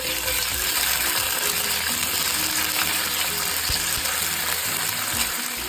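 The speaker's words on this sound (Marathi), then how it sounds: "त्यालाही व्यवस्थित परतून घ्यायचं आहे तेलामध्ये" Ginger garlic paste and curry leaves sauté in hot oil for a Maharashtrian drumstick masala bhaji, giving a loud, dense, continuous sizzle close up.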